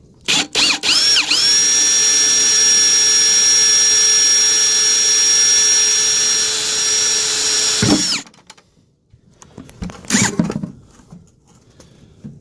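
A power drill with a Forstner bit whines steadily at high speed for several seconds while boring through a plastic bucket, then stops abruptly, followed by a few clattering handling noises.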